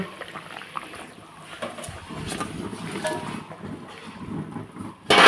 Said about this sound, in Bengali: জানলা দিয়ে হাওয়া ঢুকছে